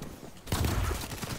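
Gunfire in the video game Black Ops 3: a loud burst of shots erupts halfway through after a quieter rumbling start, dense and close, with no one talking.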